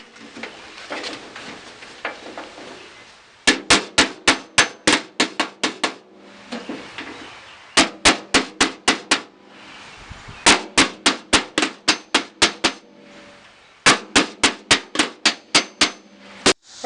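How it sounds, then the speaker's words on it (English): Sharp hammer blows fold a door skin's edge over on a 1967 Mustang door, struck in fast rhythmic bursts of about eight to ten ringing metallic hits separated by short pauses, close and loud. "that lets me get a really nice, tight, crisp corner on that thing when I'm hammering it over"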